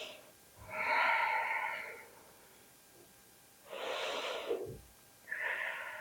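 Slow, deep breaths during a prenatal yoga stretch: three audible nasal inhales and exhales, close and breathy, spaced about a second apart with quiet pauses between.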